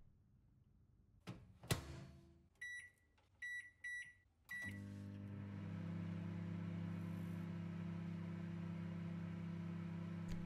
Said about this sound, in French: Pourquoi il y a le bruit d'un micro-ondes derrière?